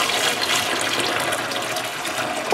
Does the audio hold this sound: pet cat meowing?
no